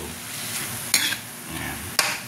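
Beef innards sizzle in a pan with a steady frying hiss, broken by two sharp utensil clatters as the meat is stirred.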